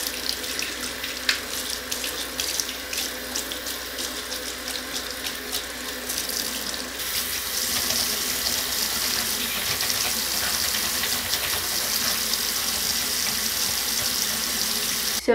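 Running tap water rinses a small makeup brush clean of black eyeliner, a steady close hiss and splash of the faucet stream lasting throughout with no speech.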